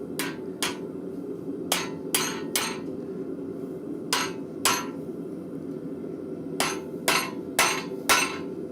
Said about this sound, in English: Get my hammer out. See if I can whack this a little bit.